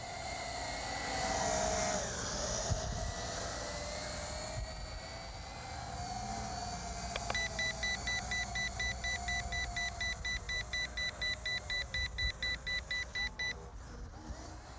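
A small Revell Hexatron toy multicopter drone whines with a high buzzing motor that shifts pitch as it flies, joined later by a rapid series of regular electronic beeps.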